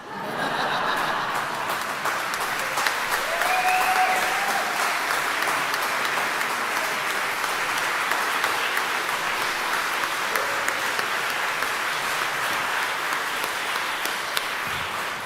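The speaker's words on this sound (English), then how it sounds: "More applause to come" Sustained applause from a congregation fills a worship service, a steady wash of many hands clapping at moderate distance, with faint chuckles mixed in.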